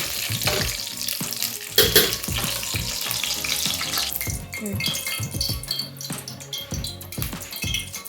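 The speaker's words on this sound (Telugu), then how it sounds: "ఫస్ట్ కొబ్బరి వేసుకుంటున్నాను. ఎందుకంటే కొబ్బరి మనకి కాస్త టైం తీసుకుంటుందన్నమాట ఫ్రై అవ్వడానికి." Grated coconut frying in a pan for mutanjan sweet rice, giving a busy, close sizzle broken by stirring scrapes and clinks that runs on for several seconds.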